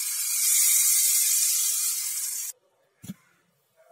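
Hot tempering of mustard seeds, dried red chilli and curry leaves poured into a simmering kuzhambu, giving a loud steady hiss for a couple of seconds that cuts off abruptly, followed by a brief low thud.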